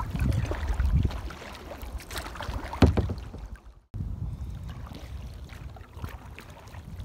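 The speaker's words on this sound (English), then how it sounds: "Wind is pretty strong right now." Strong wind gusting over a river during a kayak trip, steady rushing broadband noise with buffeting on the microphone, a sharp bump near the middle and a brief dropout before the blustery roar resumes.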